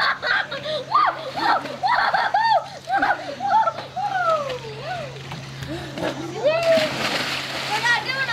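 A person dives off a dock into water with a sharp splash late in the clip, while children chatter, shout and laugh close by throughout.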